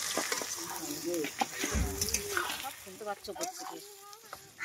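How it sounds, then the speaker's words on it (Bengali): Chopped onions fry with whole garam masala in a pot on an outdoor clay stove, giving a crackling sizzle with stirring scrapes while a person talks over it. "পেঁয়াজটা কিন্তু মোটামুটি ভাজা প্রায় হয়েই এসেছে ভালো"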